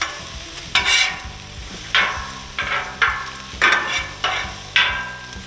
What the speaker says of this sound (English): I'm just going to move the bacon around, switch sides with the onions